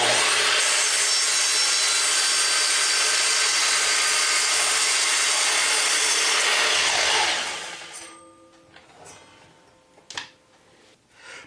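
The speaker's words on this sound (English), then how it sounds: "we're going to take it over to the table saw and we're going to cut just a little bit of a sliver off the bottom of each leg" A table saw cuts a thin taper sliver off the bottom of a wooden table leg, giving a loud sustained whining rasp for about seven seconds, then winding down into quieter knocks and clatter.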